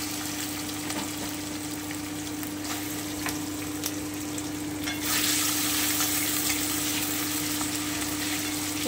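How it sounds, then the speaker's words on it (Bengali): Paneer frying lightly in hot oil makes a steady hiss over a low constant hum, with a few faint clicks, and the sizzle grows brighter and louder about halfway through. "তেলটা একটু গরম হলে আমি পনিরটা খুব হালকা করে একটু ভেজে নেব"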